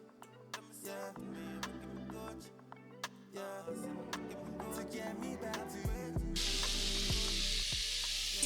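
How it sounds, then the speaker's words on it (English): Raw shrimp hit a hot skillet and a broad, steady sizzle swells up, loud and close, with a few light clinks mixed in. It builds over the last seconds, and no one speaks. "Now to my skillet, I'm adding the shrimp."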